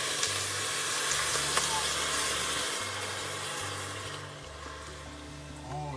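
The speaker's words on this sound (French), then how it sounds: "on rajoute tout de suite la bière" Beer poured over mussels in a hot pot, a loud, steady sizzling hiss and bubbling that eases slightly toward the end.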